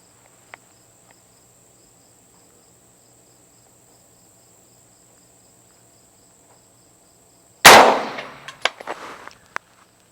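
A single loud handgun shot from an Extar EP9 with a 4-inch barrel, fired outdoors during a velocity test. It cracks sharply and close after a long quiet stretch with a steady insect drone, then decays through a ringing tail and scattered echoes.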